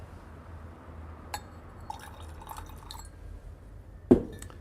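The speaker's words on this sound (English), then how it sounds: "But when we add the water," Water trickles into a glass of whisky, soft drips and a brief pour, close and quiet, ending with a sharper splash or clink against the glass; no speech.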